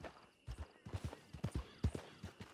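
Horse hooves clip-clopping in Red Dead Online, a quick irregular run of soft hoof beats at moderate distance, fairly faint.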